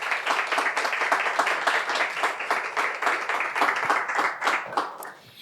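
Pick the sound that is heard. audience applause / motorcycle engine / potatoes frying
audience applause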